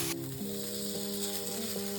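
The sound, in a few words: potato pancake batter frying in oil in a pan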